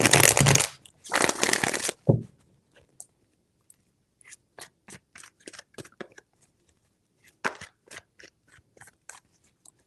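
Tarot cards shuffled in two loud riffling bursts at the start, then a scatter of softer card taps and flicks while the deck is handled and laid out, with no talking.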